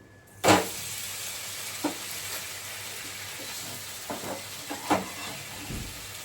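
Breakfast fries in a pan with a little oil, a soft continuous sizzle punctuated by a sharp clatter and a few light knocks and pops, close and fairly quiet.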